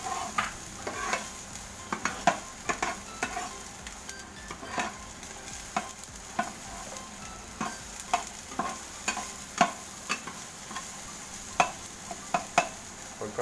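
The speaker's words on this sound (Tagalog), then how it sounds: "Okay po, mainit na po ang kawali. Tayo po ay magsusutay na po. Unahin po natin ang bawang." Garlic sautéing in a hot pan before the onions go in, a steady frying sizzle broken by repeated sharp scrapes and clinks of a utensil stirring against the pan, near and alone without talk.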